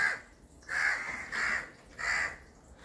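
A mother crow caws repeatedly at a baby crow stuck with its head in a window grille, four harsh, evenly spaced calls at close range with no other sounds.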